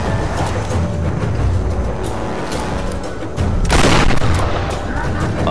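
Rapid gunfire and heavy explosive booms from grenades in the Tomb Raider video game, a dense continuous barrage with a louder burst of blasts partway through, with no talking over it.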